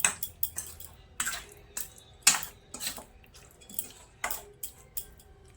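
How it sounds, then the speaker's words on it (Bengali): A spoon clinks against a bowl in irregular taps while mushrooms are mixed with spices for kebab, close and fairly quiet, with soft wet squishing between the clicks. "এবার মাশরুমগুলোর গায়ে মশলা ভালোভাবে লেগে যায়, যাতে ওরমভাবে মিক্স করে নেব।"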